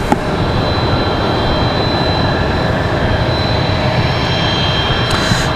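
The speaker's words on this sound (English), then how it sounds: "the next arrival, big arrival, Frontier 1670. Odell the Lynx livery, coming in from Atlanta" A Frontier Airlines jet inbound from Atlanta, arriving at Raleigh-Durham International, gives a steady loud jet engine roar with a faint high whine throughout, no voices present.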